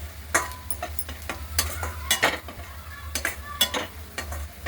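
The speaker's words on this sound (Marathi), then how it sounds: "हळद छान परतून घेऊ।" Turmeric, red chilli powder and masala frying in a pan for a dry cauliflower and pea dish, with steady sizzling broken by repeated scraping and stirring clinks of a spoon against the pan.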